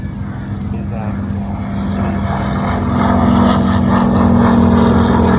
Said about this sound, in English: And here comes the Zero.